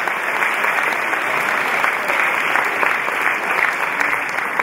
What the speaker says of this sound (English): Come on, clap your hands for them